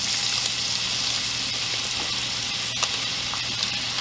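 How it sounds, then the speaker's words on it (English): Bacon rendering in a pan with two tablespoons of butter added, a steady broad sizzle and crackle of frying fat holding at an even level throughout, with an occasional sharper pop rising above it. "with our bacon that's rendering, we're going to go ahead now and add 2 tablespoons of butter"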